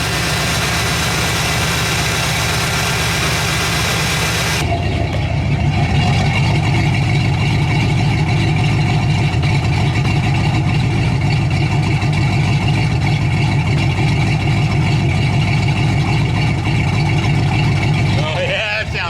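A rebuilt AMC 360 V8 idles steadily with a deep, even rumble, loud and close throughout; the sound grows fuller partway through and keeps a constant throb.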